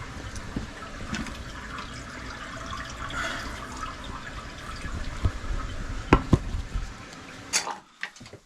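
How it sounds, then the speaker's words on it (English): A toilet flushes in an upstairs suite of a 110-year-old home with a backed-up drain, heard as a distant rushing and gurgling drain flow with a few sharp knocks near the end. "Flush it from upstairs."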